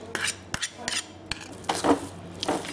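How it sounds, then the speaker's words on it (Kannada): A spoon scrapes and clinks against a pan while rava kesari with cashews and raisins is stirred, several short close metallic strokes with quiet gaps between them. "ಒಂದ್ಸಲ ಕೈಯಾಡ್ಬಿಡಿ"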